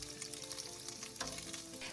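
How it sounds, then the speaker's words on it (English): Steady, dense sizzling of green onion stems frying in hot oil for a beef stir fry, close and fairly loud, with a continuous crackling hiss and no talking. "add the stem part of the green onion and let it sizzle in the oil briefly"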